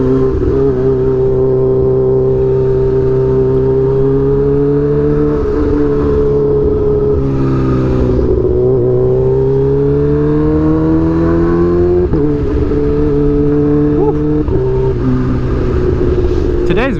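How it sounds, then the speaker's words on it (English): Riding a Kawasaki Ninja H2 motorcycle in heavy traffic, with a steady, loud engine drone and rumble of nearby vehicles. The pitch rises and falls smoothly as the bike and cars around it speed up and slow down. "Every time I ride it, there's traffic, like a lot of traffic"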